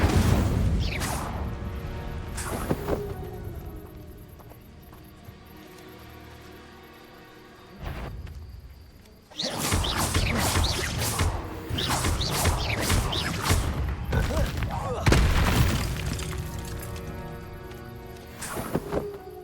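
Fire spell bursts from a Harry Potter video game, with sharp crackling whooshes and impacts arriving in several loud bursts over a busy, rumbling game soundscape.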